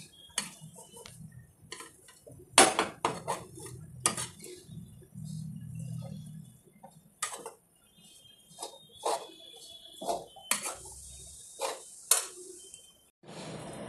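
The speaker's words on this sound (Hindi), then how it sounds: "मावे को और नारियल के बूरे को हमने अच्छे से मिक्स कर लिया है" Khoya and grated coconut being stirred in a pan for coconut barfi, intermittent clinks and scrapes of a spoon against metal with quiet pauses between, close and fairly faint.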